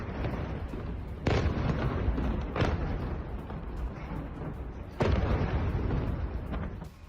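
Explosions from an Israeli air strike in Markaba, southern Lebanon: a dense, continuous roar broken by several heavy booms at irregular intervals, distant and reverberant.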